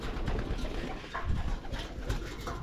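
Pigeons kept in a loft with isolated squabs coo softly amid dense, noisy background rustle and movement, with low, murky calls close by and no clear talking.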